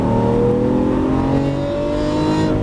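A Lamborghini Aventador LP700-4 engine accelerates, a loud, sustained roar whose pitch climbs gradually over a few seconds, heard alone with no talking.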